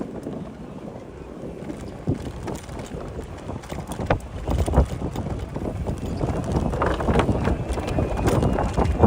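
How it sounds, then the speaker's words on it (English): Crosswind gusting against a bicycle on the Jamaica Bay Loop in New York City, with a loud, uneven rumbling buffet that rises toward the end and faint road and riding noise underneath. "Have pretty much a crosswind going on right now."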